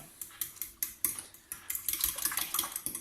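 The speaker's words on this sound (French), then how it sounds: "Allez, on va pouvoir mélanger rapidement." Spoon stirring grated cheese into a ground-meat quiche filling in a bowl, giving quick clinking scrapes against the dish at an irregular, brisk rhythm, close and fairly loud with no talking.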